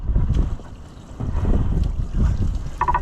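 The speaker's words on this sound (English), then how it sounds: "There comes the water." Water running and trickling out of the drain of an old, neglected Allis-Chalmers Model C tractor outdoors, a steady low rushing wash mixed with wind noise, fairly loud and continuous, with no speech.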